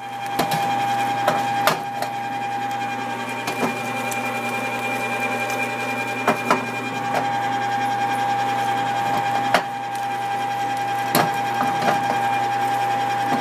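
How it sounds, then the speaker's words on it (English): Electric meat grinder working chuck beef into burger meat, a steady loud motor drone with a constant whine running throughout, broken by brief clunks and knocks as chunks feed through. "I'm going to get this chunked out. We'll get it down to the grinder."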